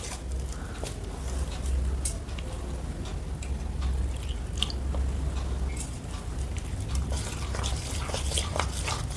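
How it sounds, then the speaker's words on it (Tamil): Thick paste of flour, salt and water stirred in a bowl, giving steady wet squelching and sloshing with small clicks, close and continuous with no talking. "தண்ணி ஊற்றி கொஞ்சம் திக் பேஸ்ட்டாக கரைச்சிக்கலாம்"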